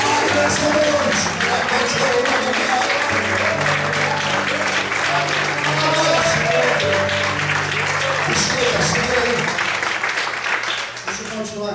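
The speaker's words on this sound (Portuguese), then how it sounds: "Quem crê nisso, levanta a mão, adore e aplaude nesta noite." Church congregation applauding at an evening service, dense sustained clapping filling the room throughout, with some voices and a low hum underneath.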